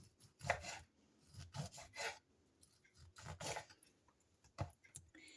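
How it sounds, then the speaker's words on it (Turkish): A knife cuts through a peeled orange for a sweet dessert, giving several separate wet, rasping slicing strokes close by, each a short scrape with pauses between, and no talk. "Şöyle soyduktan sonra şöyle dilimlere ayırıyorum."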